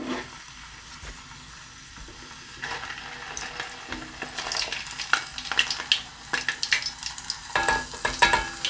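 Conch sizzles in frying oil that is not yet fully hot, a soft crackling hiss that grows busier and more popping toward the end, heard close without speech.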